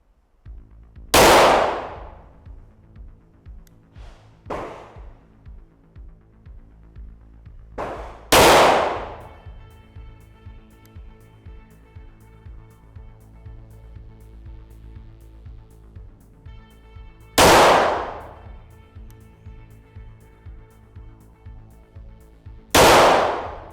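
A Smith & Wesson M&P9 M2.0 pistol fires at a sticker target about 10 yards away: four loud, sharp shots spaced several seconds apart, each ringing briefly, with faint metallic clinks between them.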